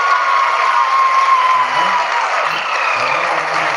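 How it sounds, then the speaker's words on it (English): Steady, dense clapping from a large crowd celebrating the Chandrayaan-3 moon landing fills the space, continuous and fairly loud throughout. "People are applauding."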